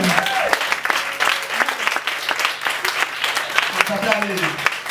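A church congregation applauds with a dense, sustained patter of clapping, fairly close and steady for several seconds, while voices call out over it.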